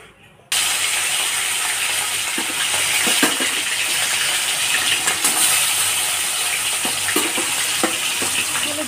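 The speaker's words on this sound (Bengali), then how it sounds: "এবার কড়াইটা গরম হয়ে গেছে, আমি তেল দিয়ে দিয়েছি, তেলটাও আমার গরম হয়ে গেছে। এবার মাছগুলো ছেড়ে দেবো।" Katla fish frying in hot oil in a wok, a loud, steady sizzling hiss that starts abruptly and runs on with scattered crackles and pops, close by and with no talking.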